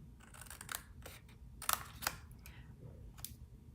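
Scissors cutting through paper card while making a Halloween Kit Kat treat holder, heard as a few short, close snips scattered across a quiet background.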